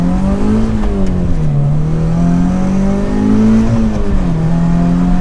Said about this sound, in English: So I'll do another acceleration